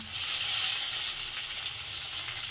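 Steady, close sizzling of sliced tomato and vegetables frying in hot oil, a continuous crackling hiss with no talking.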